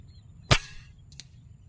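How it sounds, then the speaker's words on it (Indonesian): A single sharp gunshot crack from a Black Ant air rifle test shot, close and abrupt, followed by a faint short echo or click a moment later, with quiet around it. "tembakan pertama ya"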